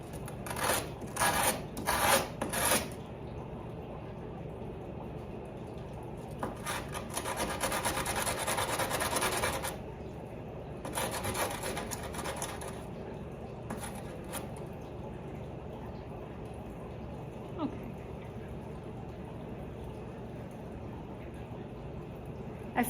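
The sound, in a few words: belt sander sanding ceramic guitar slide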